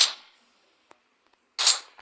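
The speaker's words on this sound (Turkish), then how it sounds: "Ha şuna silah sesi geliyor lan" Two sharp, close gunshots in PUBG, one at the start and one near the end, with a faint click between them and near silence otherwise.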